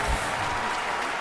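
A crowd applauds at a men's table tennis semi-final in the London 2012 Olympics video game, giving a steady, even wash of clapping throughout the short moment, with no voices over it.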